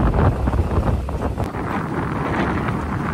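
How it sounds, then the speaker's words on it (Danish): Strong wind buffets the microphone on a boat heading into a Danish fjord, a steady broadband rush with low rumble and faint water sounds, no talk. "Så får vi lige en fantastisk vind."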